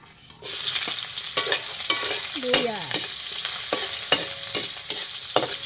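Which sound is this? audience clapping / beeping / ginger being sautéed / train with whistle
ginger being sautéed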